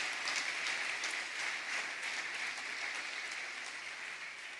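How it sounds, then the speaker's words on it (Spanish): A church congregation applauds loudly and steadily, a dense wash of clapping from many hands that holds for several seconds with no talk over it. "Alabe al Señor con un aplauso fuerte."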